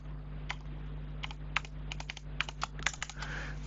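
Password being typed on a computer keyboard: a dozen or so quick key clicks in irregular bursts over a steady low electrical hum, close and moderately loud, no voices.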